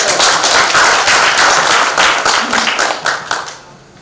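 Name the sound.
audience applause at a luncheon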